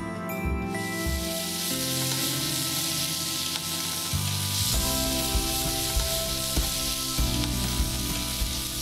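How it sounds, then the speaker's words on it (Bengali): Raisins frying in ghee sizzle loudly and steadily as sour yogurt is added, with a dense crackling hiss and a few deeper bubbling surges partway through. "এইবার আমি কি করছি, ওখানে একটুখানি টক দই দিচ্ছি।"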